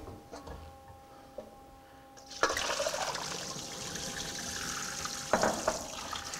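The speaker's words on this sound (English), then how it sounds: "We'll strain off these tortellini that are nicely chilled." Chilled cooked tortellini being strained in a kitchen, with water rushing steadily out through a strainer into a sink, a continuous splashing wash after a brief clank, with a couple of louder knocks near the end.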